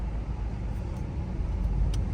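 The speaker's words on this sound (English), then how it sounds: "I'm pulling in a parking garage, man" A Dodge Charger R/T rolls slowly through a parking garage, a low, steady engine and road rumble heard from inside the car, with a few faint high clicks.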